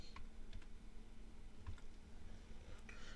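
Fingers tap on a computer keyboard with scattered, irregular clicks and key presses, close but quiet over a steady low room hum, with no talk.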